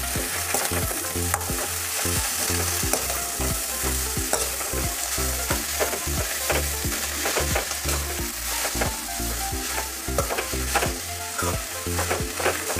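Bathua greens sabzi stirred in a hot pan, a steady loud sizzle broken by regular scraping strokes of the spoon, close up and with no talking.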